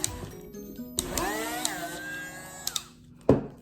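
A small power drill bores holes in shellacked earrings, spinning up with a rising whine that holds steady for about two seconds, then winds down, with light taps and a sharper knock near the end, close up.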